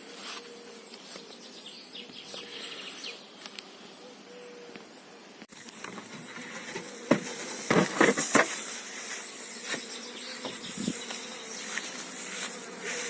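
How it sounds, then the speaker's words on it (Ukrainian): A honeybee swarm hums at an apiary, a steady dense buzzing that goes on throughout, with louder close passes and some handling noise partway through, and no voices. "Рій не дуже великий, зараз я його покажу"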